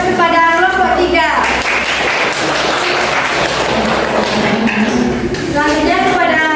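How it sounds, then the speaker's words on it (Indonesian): An audience applauds presentation group 3 in a classroom, with a sustained wash of clapping through the middle of the clip. A person speaks briefly at the start and again at the end. "Berikan aplaus kepada kelompok 3."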